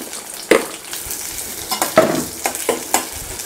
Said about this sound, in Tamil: இப்போ வெங்காயத்தை சேர்த்து நல்லா வதக்கிடலாம்.